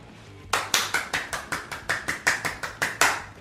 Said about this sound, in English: This clap right here is a sincere clap.